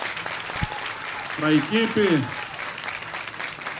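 Applause for a winning team at South Summit 2023 continues as a steady wash of clapping while someone speaks briefly over it.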